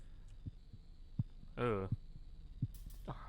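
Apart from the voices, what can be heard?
heartbeat sound effect in The Cat Lady video game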